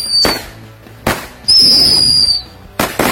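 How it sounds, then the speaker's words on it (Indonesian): A Thor mouse firecracker is lit and goes off in a string of sharp cracks, with a shrill whistling squeal and loud pops close by. "Selanjutnya ini kita nyalakan mercon tikus Thor."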